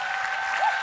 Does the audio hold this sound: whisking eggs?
no